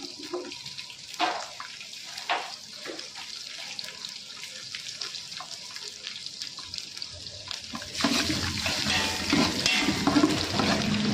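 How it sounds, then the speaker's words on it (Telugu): Dried red chilies and shallots sizzle in hot oil for a tomato pickle tempering, with soft crackling and occasional spoon scrapes, then a louder, denser burst of frying near the end, no voices. "ఈ విధంగా ఎండుమిర్చి వేగిన తర్వాత మంట ఆపేసుకోవాలి."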